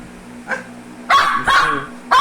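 A dog barks loudly and close by, with a faint yip followed by three sharp barks spaced unevenly over a couple of seconds, and no talking.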